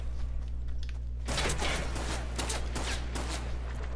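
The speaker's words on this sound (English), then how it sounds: "He's getting shot at." Rapid gunfire bursts out in a video game, a dense crackling volley of shots that starts abruptly over a low steady hum and keeps going in loud clustered bursts.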